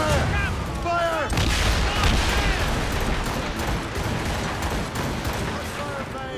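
In the video game Assassin's Creed Rogue, a naval ship battle fills the air with repeated heavy cannon blasts and booming impacts. Shouting crew voices mix in over the gunfire.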